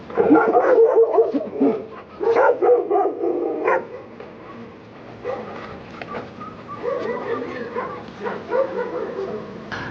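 Several stray dogs at a dog shelter in Kurdistan bark and yip near and far, with occasional whimpers mixed in, busy at first and then quieter.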